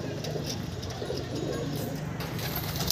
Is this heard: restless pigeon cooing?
yes